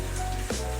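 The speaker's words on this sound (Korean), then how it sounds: "체크해보니 빗소리가 많이 들어갔네요." Steady rain falls during an artist's painting session, a soft continuous hiss with a low hum underneath and no voices.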